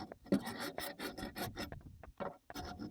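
A rapid series of harsh rasping strokes as creosote is scraped from inside a chimney flue, close and loud with brief pauses between bursts.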